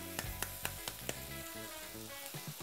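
A spoon taps the back of a halved pomegranate to knock the seeds loose: about five quick, evenly spaced knocks, then softer ones later, over steady background music.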